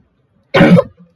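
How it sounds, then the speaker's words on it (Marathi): A single sharp cough from a person indoors, close and fairly loud, with a brief throaty trail and quiet before and after. "जास्तच खोकला येते आज मला."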